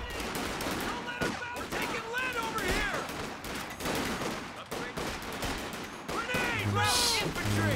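Volley fire in a video game rattles as rapid, overlapping gunshot bursts beneath continuous excited commentary, the shots partly masked by the talking voices.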